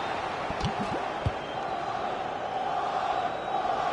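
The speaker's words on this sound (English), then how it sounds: "the crowd are looking to really give the players a boost" A stadium crowd roars in the FC26 football video game, a steady, broad wash of cheering with a few dull thuds early on, continuous and moderately loud.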